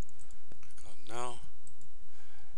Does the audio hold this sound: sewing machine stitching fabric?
no